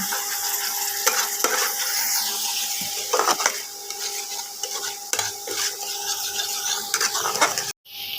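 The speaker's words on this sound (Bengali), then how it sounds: "দেবো একটু গরম মশলা এবার বন্ধুরা সেটা একটু কষিয়ে নেব" Spices with garam masala for a katla fish curry are stirred and fried in a pan, a continuous sizzle broken by repeated scraping strokes of a utensil against the pan, close and steady, with no talking.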